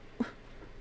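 A dog in the Resident Evil 4 chainsaw demo lets out one short, faint whimper, a brief soft whine followed by quiet breathing.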